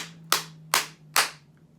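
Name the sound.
hands clapping at the end of a chicken dance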